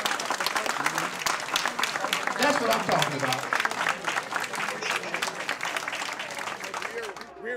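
A standing audience at a township Black History celebration breaks into sustained, lively applause that runs throughout, with a voice speaking over the clapping.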